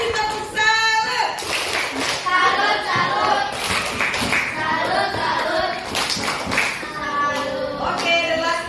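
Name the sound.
audience clapping after a group presentation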